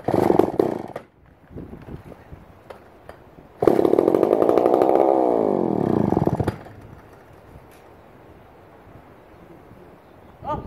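A McCulloch 550 chainsaw sputters briefly, falls quiet with a few faint clicks, then roars to life for about three seconds with a rising, wavering rev before cutting out again; a short burst follows at the end.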